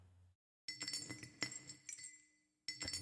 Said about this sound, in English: Jangling of chains and keys